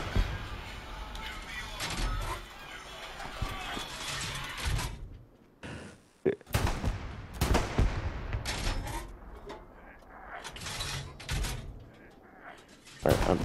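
Artillery and gunfire in the World War II shooter Hell Let Loose, with heavy booms and bursts of shots rolling across a busy battlefield, some blasts loud and near, others distant, under a player talking over voice chat.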